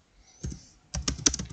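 Keys on a computer keyboard clack while typing into a Word document: a short burst of a few taps, a pause, then a quicker cluster of close, crisp strokes.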